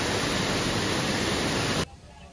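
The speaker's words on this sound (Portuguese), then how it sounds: "Estamos parados à frente de uma cascata." A waterfall roars as a loud, steady wash of broadband noise close by, then cuts off abruptly near the end, leaving faint background sound.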